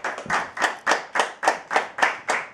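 A jazz concert audience claps together in a steady rhythm, about ten sharp even claps of massed hands in a lively room, with no talking over them.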